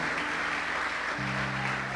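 Church congregation applauding during a worship service, a steady continuous wash of clapping throughout, with a low sustained organ or keyboard tone running beneath.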